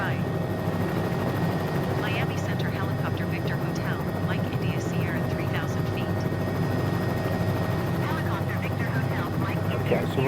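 Helicopter in flight around Key West, Florida, heard from inside as a steady, loud, continuous rotor and engine drone with faint radio-style voices over it.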